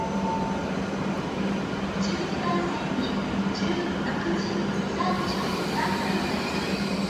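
A Japanese Shinkansen-type train rolls past with a steady, even rumble and rushing noise at moderate volume, while faint background sounds sit underneath.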